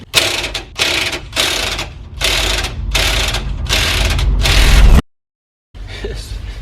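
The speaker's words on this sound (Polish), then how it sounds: "a tym wielkim udarem to ja pewnie zaraz pourywam wszystkie te śruby" Large impact wrench undoing the bolts on a Mazda Miata stabilizer, loud close bursts of rapid hammering rattle, about six bursts with short gaps, then a brief silence before another burst starts.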